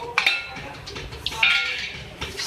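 A spoon clinks and scrapes against a bowl while chicken BBQ samosa filling is stirred together with two chopped medium onions and chopped coriander, in several close, uneven knocks with soft rustling between.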